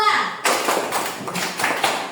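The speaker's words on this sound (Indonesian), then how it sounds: "Tepuk 2." A classroom group claps on cue during a lesson. Sharp, dense bursts of hand claps come close and fairly loud, with a voice speaking around them.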